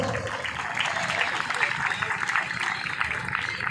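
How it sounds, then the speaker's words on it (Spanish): Audience applause at an Inti Raymi festival, a steady wash of many hands clapping for the whole stretch, dense and even, with voices murmuring beneath. "vamos a brindar un fuerte aplauso por la identidad de los pueblos quichua"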